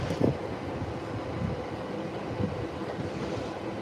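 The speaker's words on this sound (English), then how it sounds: "And here comes the Yamanote line." Yamanote line commuter train pulling into Tokyo Station, a steady low rumble and rolling rail noise with some wind, moderately loud and continuous throughout.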